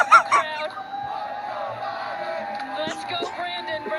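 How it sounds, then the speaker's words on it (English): Race crowd chanting "let's go, Brandon" in the distance, a rhythmic massed chant and cheering heard beneath a nearby voice. "as you can hear the chants from the crowd"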